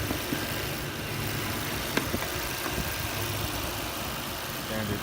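A 2018 Audi A5 Sportback idles with a quiet, steady low hum and faint vibration, heard close over soft background noise, with occasional faint talk.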